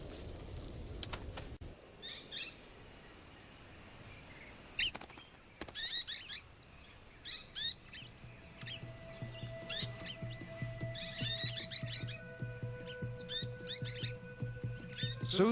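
Golden-shouldered parrots call with short, sharp chirps and whistles in bursts during the dry season, scattered across a quiet outdoor background with some longer tonal notes toward the end.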